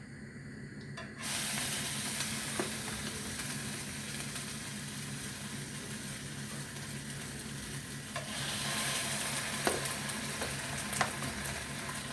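Meatballs with roquefort frying in a pan give a steady, loud sizzle that starts abruptly and holds throughout, swelling slightly later with a few brief stirring clicks, no voices.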